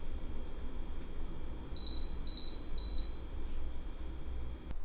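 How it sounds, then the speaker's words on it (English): A Brewista gooseneck kettle gives three short, high electronic beeps in quick succession after reaching temperature, heard over a low background hum. "you can hear that the kettle beeps once it's reached temperature"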